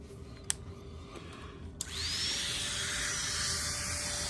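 A rotary carving tool fitted with a fine ruby flame bit spins up partway through and keeps up a steady high whine while shaping a carved wooden kinglet bird, after a couple of light clicks. It is close and fairly quiet, with no speech.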